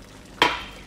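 Cooked rice being stirred in a pot after lemon juice is added: a single brief scrape and soft clatter, close and alone against a quiet background.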